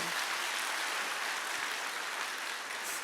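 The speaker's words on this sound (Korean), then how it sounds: "우리 박수 한번 쳐주세요" Steady, dense applause from a lecture audience at Park Jung-su's Imperial Master talk, a continuous even wash of many hands clapping at once and holding level throughout.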